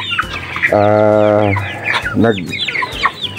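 Chickens on a farm cluck and squawk close by, with one sustained loud call followed by shorter clucks and scattered chirps from the flock.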